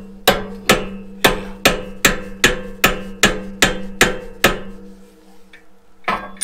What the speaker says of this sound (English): Just tap that pin down a little bit, and you can usually walk the washer up.